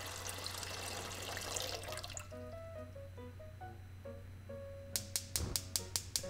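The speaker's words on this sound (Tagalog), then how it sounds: "Ilalagay lang muna ako ng tubig dito sa isang pot." Water runs and splashes into a pot for a couple of seconds while making lasagna, followed by soft melodic tones and a quick series of sharp clicks.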